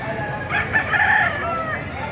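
A rooster crows loudly and close by at a poultry market in Baliuag, one drawn-out call with clucking fowl around it.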